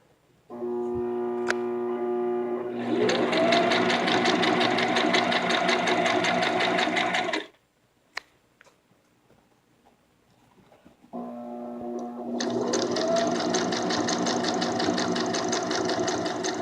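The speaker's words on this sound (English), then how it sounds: "So you can remove the pins as you go with your sewing machine." A sewing machine stitches pinned fabric for a baby bib in two long bursts of rapid mechanical stitching, with a quiet pause between them, close and steady.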